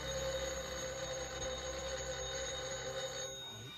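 A telephone rings in a 1955 film scene, its bell sounding steadily and fairly close before cutting off near the end, with no talk over it.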